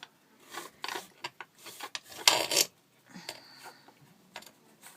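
Sandpaper rubbing on cork while making charms and keychains, uneven bursts of close scratchy rasping separated by short pauses, with one louder, harsher stroke in the middle.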